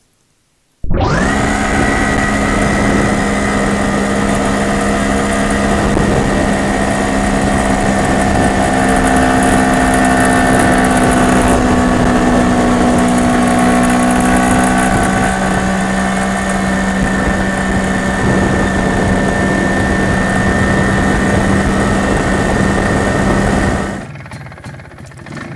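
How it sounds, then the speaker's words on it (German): An MZ ES 250/2 motorcycle with a BING 84 carburettor runs steadily at part load, a loud, continuous, near two-stroke drone with a metallic knocking ring, then cuts off abruptly near the end. "Bei Volllast hört sich der Motor nun schon ganz manierlich an, aber gerade bei Teillast ist noch deutliches Klingeln zu hören"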